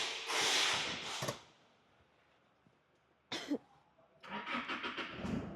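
An Isuzu D-Max pickup truck engine cranks and turns over briefly between bursts of loud voices, then settles quietly before more noisy talk follows.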